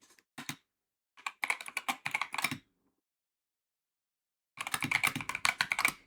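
Keys clatter on a computer keyboard in two quick bursts of close typing separated by a long silent pause, with no talking.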